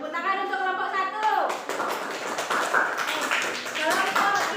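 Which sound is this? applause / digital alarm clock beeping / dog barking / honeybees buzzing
applause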